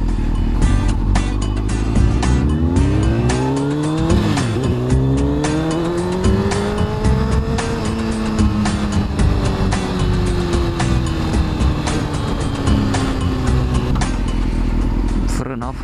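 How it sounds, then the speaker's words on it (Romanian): Motorcycle engine while riding, loud revving that rises and falls through gear changes, with wind noise and a voice talking over it. "Nu se mișcă rău motorul."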